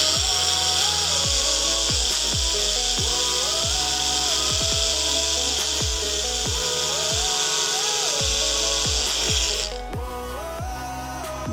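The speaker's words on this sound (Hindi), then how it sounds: "एक बार मशीन चला देंगे कि पूरा एक साथ सब मिक्स हो जाए" A kitchen mixer grinder blends garam masala spice powder with a loud, steady high-pitched whine for about ten seconds before cutting off abruptly, with music playing underneath.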